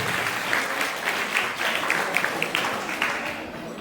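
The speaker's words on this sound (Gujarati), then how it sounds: "તાળીઓના ગડગડાટથી" An audience at a taluka-level wedding-song competition claps to welcome a contestant onto the stage, producing a dense, continuous burst of applause that carries at steady volume for several seconds.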